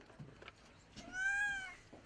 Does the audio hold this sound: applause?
no